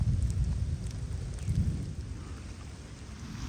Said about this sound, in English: it literally just started to pour rain here.